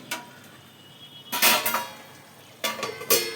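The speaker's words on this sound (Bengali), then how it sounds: "আবার ঢাকা চাপা দিয়ে রেখে দিলাম।" A metal lid set down onto a pot of Bengali boal fish curry cooking in oil, giving a few sharp clattering clanks in two short bursts with quiet kitchen background between.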